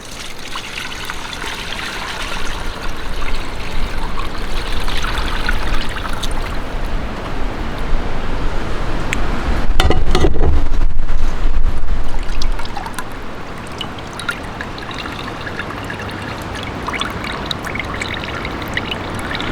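Homemade chicken bone broth pours steadily through an ordinary kitchen strainer, a loud continuous trickling and splashing stream that swells midway and then settles back to a softer flow, with no talking.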